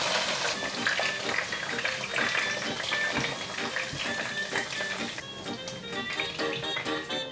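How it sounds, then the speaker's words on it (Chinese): Ginger slices and shiitake mushrooms stir-fry in oil left from frying taro, a dense, steady sizzle with scattered crackles and spatter running close and loud throughout, no voices over it. "我用剛剛炸芋頭的油來炒薑片，還有香菇"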